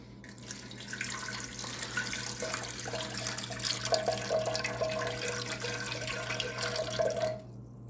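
Water runs steadily from a tap into a kettle for measuring water for naan dough, a continuous close splashing stream that rises slightly in pitch as the vessel fills, then stops abruptly near the end.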